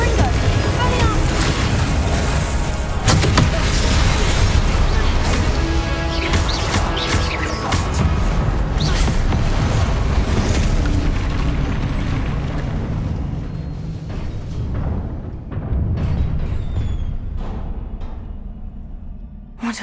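Spell blasts in the Hogwarts Legacy video game boom and crash in a dense, loud run of explosions and impacts that thins out toward the end.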